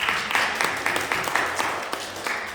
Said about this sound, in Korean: 가운데 자리에 계시는데 박수로 환영해 주십시오.